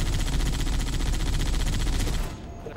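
A Warthog vehicle's mounted machine gun fires in Halo 3, a loud, rapid continuous burst of rattling shots that cuts off abruptly near the end.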